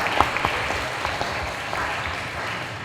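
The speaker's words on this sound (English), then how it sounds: "Y'all give her another round of applause." Audience applause at a community conversation meeting, a steady wash of clapping with a few sharper claps standing out, fairly near and sustained throughout.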